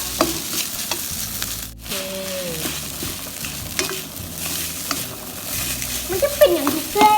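Rice and nam, a fermented pork, stir-fry in a hot pan, giving a steady close sizzle with scraping stirring strokes throughout and a brief spoken word near the start.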